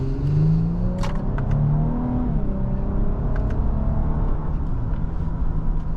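A 2025 Infiniti QX80 Luxe with a 450-horsepower twin-turbo V6 accelerates, its engine note rising steadily under a constant cabin road rumble, heard from inside with no talking.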